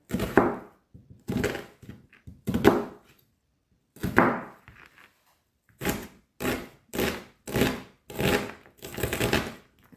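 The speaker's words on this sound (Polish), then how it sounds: "a teraz kroję e, cebulę" An onion is chopped with a knife on a cutting board, giving close, dry cuts that come in uneven bursts. The strokes are slow and spaced at first, then faster and steadier, with no talking.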